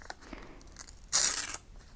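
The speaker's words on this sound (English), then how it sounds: "you can just have them practice ripping, tearing and ripping" Paper is torn by hand in one quick, loud rip lasting under half a second, preceded by faint rustling, with no talking.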